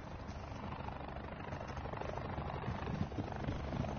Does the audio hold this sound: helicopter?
yes